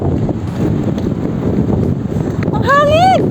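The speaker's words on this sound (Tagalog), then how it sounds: "Grabe, sobrang hangin." Strong wind buffets the microphone in a steady low roar, with a voice talking over it.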